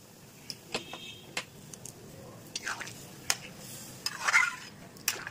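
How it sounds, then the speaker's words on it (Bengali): Pilaf rice and water are stirred in a pot and then covered, with scattered scraping and metallic clinks and a lid-like clatter near the end, under quiet talking. "এবার এটা নেড়ে ঢেকে দেবো"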